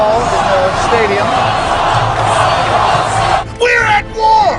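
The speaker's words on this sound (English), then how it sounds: "the cheering is happening here for Ron Paul in the stadium" A large stadium crowd at a rally for Ron Paul roars and yells steadily, a dense wall of cheering that briefly dips near the end before surging again.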